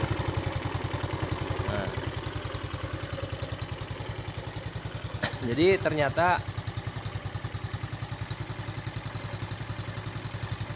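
A Yamaha Mio Sporty motorcycle, earlier stalled by degraded fuel in the carburetor, idles with a steady rapid putter throughout, while someone talks briefly near the start and again midway.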